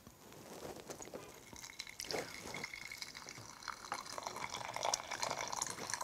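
Hot water poured into a matcha bowl, a steady trickling pour with drips and splashes running throughout, fairly close and moderately loud, with no talking.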